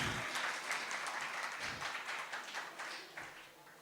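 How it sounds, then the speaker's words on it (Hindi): Audience applause for Dilip Kumar at an event stage, a steady crowd clapping that runs throughout before fading slightly toward the end. "हमारे दिलीप कुमार भाई साहब के लिए जबरदस्त तालियां बजाइए"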